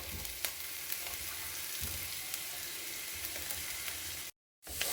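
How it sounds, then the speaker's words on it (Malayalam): Onion, green chili and ginger frying in oil in a pan, a dense, steady close hiss with a few faint clicks, interrupted by a short silent gap near the end. "നമ്മൾ നേരത്തെ അരിഞ്ഞു വെച്ചിട്ടുള്ള സവാളയും പിന്നെ പച്ചമുളകും ഇഞ്ചിയും എല്ലാം കൂടി നമുക്ക് ഇടാം."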